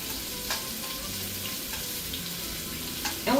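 Shrimp frying in a small amount of oil in a pan, with a continuous close sizzle and light stirring scrapes and no voices.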